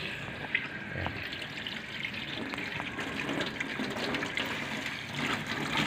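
Water sprayed over a Carrier Optima air conditioner during cleaning gives a faint, continuous hiss and splatter that stays steady throughout, with no talking.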